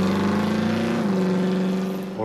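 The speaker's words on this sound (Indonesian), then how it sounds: "dengan suara gahar mobil baru Ray saat itu" A new car's engine roars loudly in a film scene, holding a steady, powerful drone with a slight shift in pitch partway through before easing off at the end.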